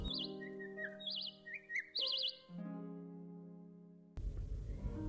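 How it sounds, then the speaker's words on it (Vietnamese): A flock of small birds chirps and twitters in quick warbling bursts while pecking at persimmons, bright and close, without speech, ending in a short burst of rustling noise. "Đàn chim nói rồi ríu rít mổ ăn quả hồng."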